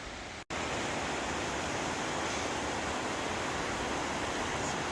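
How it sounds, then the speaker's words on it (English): River rapids near a small waterfall at Elk Falls Provincial Park, British Columbia, roar steadily and broadly, a continuous loud wash of fast-flowing water, with no voices. "Some pretty rapids going by. The tiny rapids over there."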